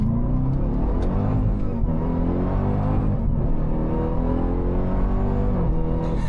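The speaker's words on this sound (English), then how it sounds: "To activate launch control, go ahead and click the launch button, floor the accelerator, and release the brake." A car launched with launch control, accelerator floored, on tight, twisty roads: a loud, steady engine roar and rumble with rising, layered harmonics from start to finish, without speech.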